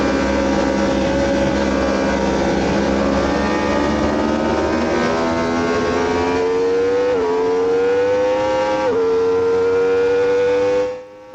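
A racing motorcycle launches off the start at the Automotodrom Brno circuit, its loud, close engine whine climbing steadily through two gear shifts, with no speech over it.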